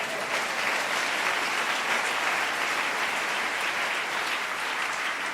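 A church congregation applauds during a worship service, a dense, continuous roar of clapping from many hands, loud and unbroken throughout.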